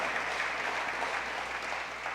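Applause from a church congregation during a worship service, a steady, dense wash of clapping held at an even level throughout, slightly distant and roomy.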